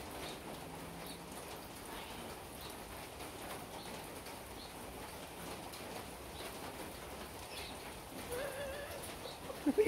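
Steady rain patters outdoors around a pet cockatoo bathing in it, a continuous soft hiss of drops throughout with faint bird sounds and a few louder knocks near the end.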